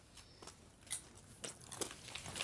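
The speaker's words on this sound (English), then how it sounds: "It's crunchy. popping. It's popping candy." Crunching bites into a Cadbury chocolate bar filled with popping candy, with several close, sharp crackly bursts spread across a couple of seconds.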